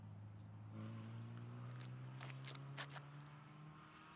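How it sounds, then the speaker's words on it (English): Hot rod cars rev and race somewhere off in the distance, a faint, sustained engine drone with rising and falling pitch that rings out at a quiet outdoor disc golf course, with no voices over it. "pauses a moment to listen to those, rip-roaring cars"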